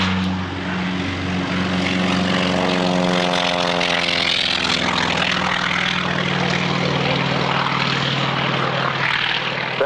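A North American T-28 piston warbird flies a display at North Weald Airshow in 1999, its radial engine and propeller roaring loudly and steadily as it passes, the pitch sliding downward in a clear Doppler sweep.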